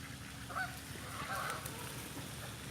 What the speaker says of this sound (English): Oh, here comes some mallards.